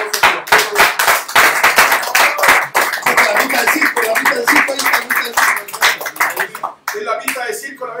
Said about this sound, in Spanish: le doy un aplauso a los pueblos